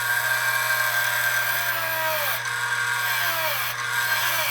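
A maple bowl blank spun on a wood lathe and cut with a 5/8 bowl gouge gives a steady, loud whirring scrape with a constant motor hum, dipping briefly twice as the tool passes.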